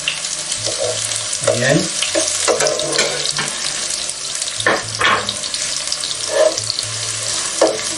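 Chopped onion sweats in a pan over low heat for mussels provençal, a soft continuous sizzle with watery hiss and scattered stirring clatter, a voice briefly heard.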